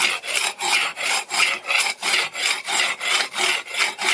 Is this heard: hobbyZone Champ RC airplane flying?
no